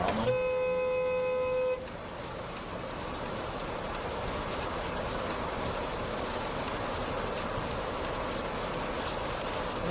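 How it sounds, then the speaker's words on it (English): A car horn blares in one loud, steady honk lasting about two seconds, followed by a continuous road and traffic rumble, with no talk. "they saw you and hit the honk more."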